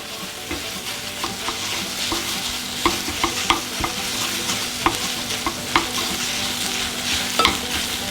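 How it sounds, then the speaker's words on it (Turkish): Onions and peppers being stirred with tomato-pepper paste in a pan, with a steady close sizzle and fry beneath repeated sharp scrapes and taps of a utensil at an irregular rhythm. "Soğan ve biberleri salçayla güzelce karıştırdım"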